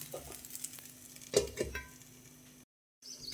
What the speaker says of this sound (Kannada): ಮೇಲೆ ಸ್ವಲ್ಪ ತುಪ್ಪವನ್ನು ಆ್ಯಡ್ ಮಾಡ್ತಿದ್ದೇನೆ. ಮೀಡಿಯಮ್ ಫ್ಲೇಮ್ನಲ್ಲಿ ಚೆನ್ನಾಗಿ ಬೇಯಿಸ್ಕೊಳ್ಳೋಣ.